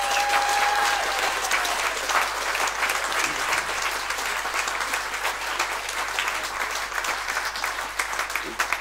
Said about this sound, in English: a round of applause for the stewards,